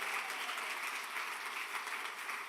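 A church congregation applauding together, an even, continuous patter of many hands clapping at moderate distance with no pauses.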